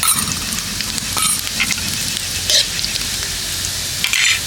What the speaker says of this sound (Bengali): কড়াইতে তেল দিয়ে দিয়েছি, সাদা তেল, 2টো শুকনো লঙ্কা দিয়ে দেবো, আর একটু দিয়ে দেবো 5 ফোড়ন